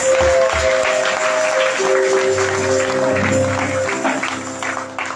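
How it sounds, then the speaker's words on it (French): A Sunday church congregation applauds and cheers for the Lord, a broad wash of clapping and crowd noise over sustained keyboard or organ tones and low bass notes, loud and continuous before tapering slightly at the end. "Que nous donnions une forte acclamation pour le Seigneur."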